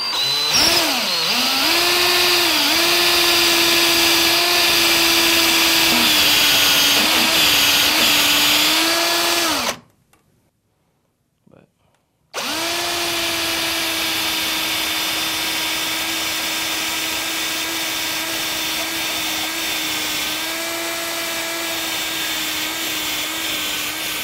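A speed reamer coated in silicon carbide grit on cloth-backed tape spins against a cork handle blank, giving a loud steady motorized whine with grinding texture that stops briefly mid-way and then resumes.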